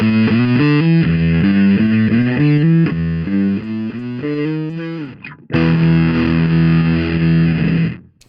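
A bass guitar played through a distortion pedal with its fuzz function engaged chugs a loud, gritty, buzzing riff of repeated notes, then a brief break and one long sustained distorted note that cuts off, with no voices.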